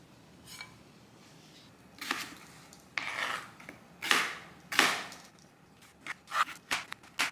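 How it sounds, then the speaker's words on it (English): A knife cutting up a potato on a board, heard as a series of close, crisp chopping strokes that begin sparse and turn into quicker, irregular cuts near the end, with no voices. "I'm gonna be cutting up this potato and dipping it in ketchup"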